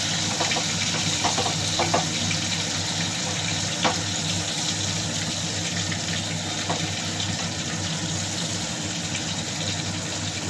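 A whole pomfret fries in hot oil with a dense, continuous hiss and crackle at steady loudness, broken by a few sharper pops.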